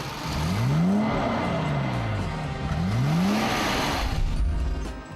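A vintage Mercedes 220 SEb with a 120 horsepower short-stroke engine, running loud and close, with two rising and falling revving sweeps over a steady drone.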